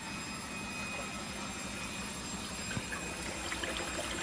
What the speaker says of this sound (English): It is pumping out an awful lot of water.